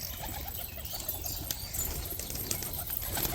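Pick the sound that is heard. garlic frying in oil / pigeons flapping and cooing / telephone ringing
pigeons flapping and cooing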